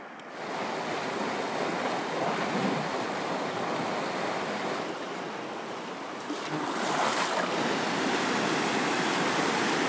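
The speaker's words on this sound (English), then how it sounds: "First rapid of the trip" Loud, continuous roar of a river rapid rushing over rocks, heard up close as a dense wash of churning water that swells slightly toward the end.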